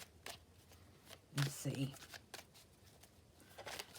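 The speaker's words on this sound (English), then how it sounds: "let's have a shuffle of the black and white Faulkner deck" A black and white Faulkner tarot deck is shuffled by hand, soft quick riffling bursts of card flutter heard close under quiet speech.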